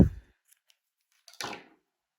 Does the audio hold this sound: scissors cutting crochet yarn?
yes